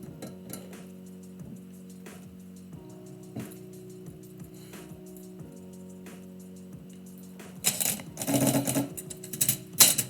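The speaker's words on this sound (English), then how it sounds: "DJing typewriter." A manual typewriter clatters with rapid, irregular keystrokes and occasional carriage clunks during a live typewritten poetry session, then bursts into a louder, denser flurry of strikes near the end, with no talking.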